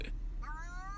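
A cat lets out a single short meow with a rising then falling tone, close and clear over low background rumble.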